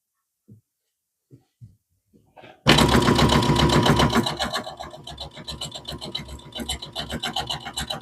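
Several faint soft knocks come first, then a sewing machine starts up loud and close, sewing quilt binding in a fast rhythmic run that eases slightly and picks up again toward the end.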